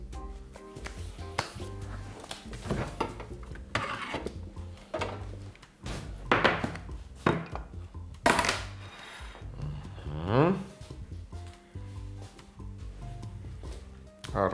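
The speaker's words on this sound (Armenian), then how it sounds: "հիմա կմշակեմ հավի կրծքամիսը։" A knife cuts raw chicken breast on a cutting board in a home kitchen, giving irregular close knocks and taps with scraping in between, and a voice is faintly present.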